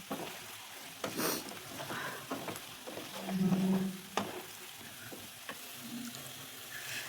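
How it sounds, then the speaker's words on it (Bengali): A spice paste of ground ginger, tomato and chilli with salt, turmeric, chilli powder and cumin fries in a pan for a paneer and potato curry, soft sizzling broken by clinks and scrapes of stirring, no voices. "মশলাটাকে আর একটু খানিকক্ষণ ভাজবো"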